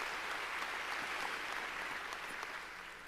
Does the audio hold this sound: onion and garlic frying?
no